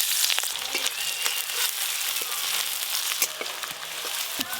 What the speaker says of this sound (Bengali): তাই এবার বেরেস্তা ভেজে নেব।